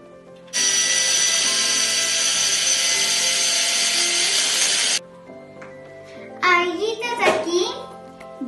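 Electric mixer beating vanilla cake batter with lemon, a loud steady whir for about four seconds, then quieter clattering and a voice talking over the bowl.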